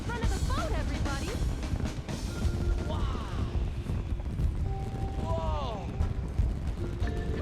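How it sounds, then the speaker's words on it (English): Fireworks whistle and pop in the video game XIII aboard a boat at a party, rising squeals and crackles repeating over several seconds beneath steady background music and game noise, with a voice talking over it. "Yep, it's fireworks"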